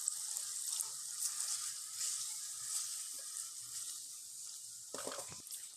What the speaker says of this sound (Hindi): जितना हमें शोरबा चाहिए उतना हम पानी ऐड कर लेंगे।